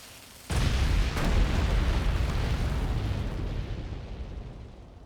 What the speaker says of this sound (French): Cette bombe baril féline devrait régler ça.